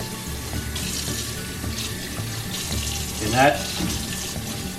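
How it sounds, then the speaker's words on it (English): Cold tap water runs into a sink as food is briefly rinsed, a steady close hiss of flowing water with a short gurgling splash partway through and a brief voice at the start. "you'll want to rinse it under cold tap water to get the rest, just a real quick rinse"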